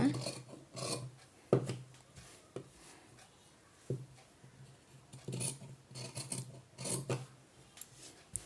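Scissors cutting blouse cloth on a table, with intermittent snips and rasping slides of the blades through the fabric in irregular bursts, fairly faint and close.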